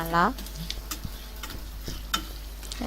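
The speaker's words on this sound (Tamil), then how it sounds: "நம்ம அப்போ தான் இந்த கோல்டு கலரில் நல்லா வதங்கி வரும்" Onions sautéing in a pan until golden, with a steady close sizzle and light scraping stirs and ticks of a spoon against the pan, no one speaking.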